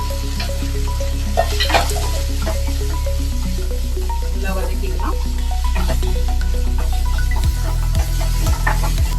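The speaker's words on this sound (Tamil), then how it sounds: "இப்போ நம்ம கட் பண்ணி வச்ச நாலு பெரிய சைஸ் வெங்காயம் இதில் சேர்த்துக்கலாம்" Four large chopped onions sizzle in a hot pan for mutton kofta gravy, a steady frying hiss with clinks of stirring, close and continuous, with talk over it.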